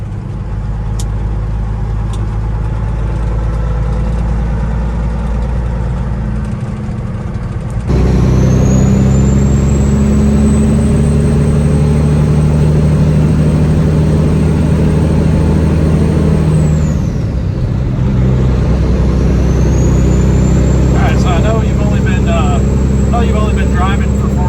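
An older Peterbilt 379 truck's engine runs steadily while driving, a loud continuous diesel drone with a high whine rising partway through, dipping briefly before resuming.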